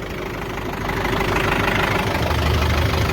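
A tractor-driven hay drum mower spins up from idle. The engine rumble is loud and steady and rises slightly as it builds, with no talking.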